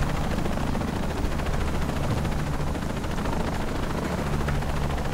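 A helicopter in the Shadow of the Tomb Raider video game roars close by, its heavy rotor thudding continuously at a constant loud level with no other sound standing out.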